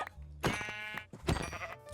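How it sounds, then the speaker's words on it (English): Two bursts of video game sheep bleating, close and loud, one after the other with a short pause between, over a faint low background hum. "Okay, a lot of sheep out here."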